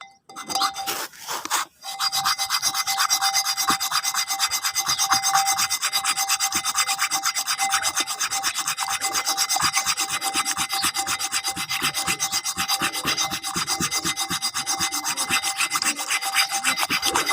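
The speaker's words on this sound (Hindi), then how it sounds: "इसके बाद ये अम्बा हल्दी है, इसके आपने 40 घिसे देने" Fresh amba haldi (mango ginger/turmeric root) is rubbed against a grinding stone in a steady rasping scrape of rapid repeated strokes, close and loud, continuing throughout without talk after a brief opening knock.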